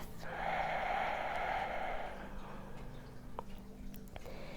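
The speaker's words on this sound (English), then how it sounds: "Deep breath." A slow, deep inhaled breath during a chair yoga session, a soft airy rush that swells for about two seconds and then fades into quiet room noise.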